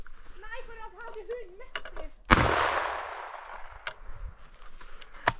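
A single loud shotgun blast during a ptarmigan hunt in Finnmark, sharp and close with a long decaying echo, preceded by faint bird calls and followed by a few clicks.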